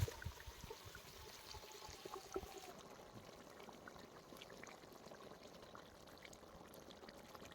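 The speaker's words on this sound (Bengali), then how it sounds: "এখন ঝোলের জন্য পরিমাণ মতো জল দিয়ে দেবো" Water poured into a mutton fat and whole garlic curry pot after the masala is fried, a steady liquid pour with sizzling texture, loudest at first then settling into a continuous trickle and bubbling, no talk.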